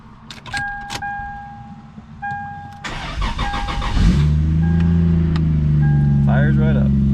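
Several chime tones sound inside a turbocharged Lexus IS300, then its engine cranks and fires. It quickly settles into a loud, steady idle that fills the rest of the moment.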